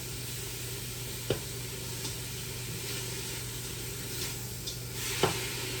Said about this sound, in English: I'm gonna get this to browning.